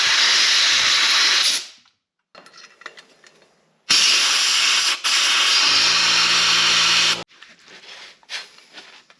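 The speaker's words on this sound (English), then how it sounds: "so I thought maybe a little compressed air" Bursts of compressed air hiss loudly into an old Coleman lantern, two long blasts separated by quieter rattling and handling noises.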